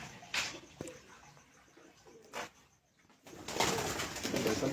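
Badshah-breed pigeons coo softly and intermittently on a rooftop, with scattered flutters and rustling, growing busier and louder toward the end with a faint voice in the background.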